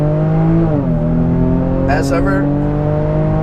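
A 2017 Jaguar F-Pace 35t AWD with a supercharged V6 and 8-speed automatic accelerates hard from a rolling start, its steady loud engine drone rising and shifting gear, with a brief voice near the end.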